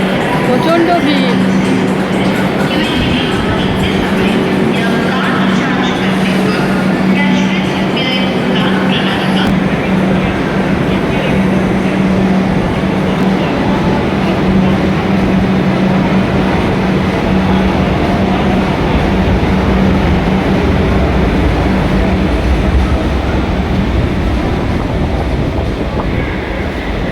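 A crowded local train rumbles and rattles steadily through a station, with continuous loud wheel and carriage noise under a dense crowd of voices talking throughout.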